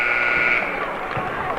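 The end-of-game buzzer sounds at a women's college basketball game in a gym, a loud steady tone lasting about half a second before fading under crowd noise and an announcer's voice.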